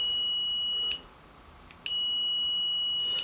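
Continuity buzzer of an Aneng SZ308 digital multimeter sounding on a desk, a shrill steady electronic tone held for about a second, a brief gap, then a second longer tone, alone with no talk.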